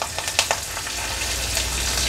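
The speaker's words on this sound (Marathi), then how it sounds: "राई आणि जिरं थोडं तडतडलं" Mustard seeds and cumin crackle in hot oil during tempering for Maharashtrian besan pithla, a few sharp pops early over a soft continuous sizzle, close and clear with no voices.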